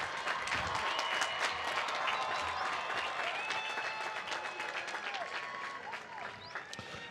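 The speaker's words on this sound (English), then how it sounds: "So make sure you give a round of applause for the people in the crowd." A graduation crowd claps in sustained, fairly distant applause that fills the hall, with scattered louder claps and a few whoops rising out of it before it thins slightly near the end.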